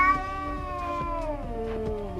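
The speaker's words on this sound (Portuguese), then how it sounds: "faz sons que os gatos costumam fazer apenas quando estão em situações de tremendo risco" A distressed cat yowls in a long, wavering, drawn-out moan that bends in pitch, close and loud, the threatening caterwaul of a cat in a defensive posture, with no other voices.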